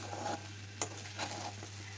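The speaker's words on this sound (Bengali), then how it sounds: "আরও 2 মিনিটের মতো আমি একটু ভালোভাবে ভেজে নিব" Quiet sizzling of raw rice being fried and stirred in a pan for khichuri, with a few scraping stirs and light clicks against a steady low hum.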